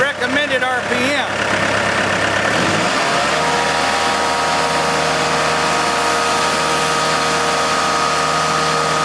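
A 52 hp Isuzu diesel engine on a Judson Genesis DXT truckmount revs up from idle, its pitch shifting and climbing over the first few seconds. It then settles into a loud, steady, higher-speed hum.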